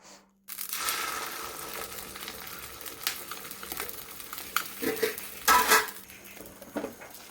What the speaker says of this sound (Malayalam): അപ്പോൾ ഇത് ഓംലെറ്റ് ആക്കി ആ ഒരു ചട്ടി തന്നെ ആട്ടെ